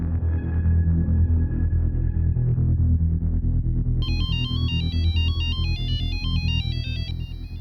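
A melodic electronic phone ringtone starts partway through, a rapid repeating pattern of high beeping tones over a loud, dense background of low rumbling sound, at night.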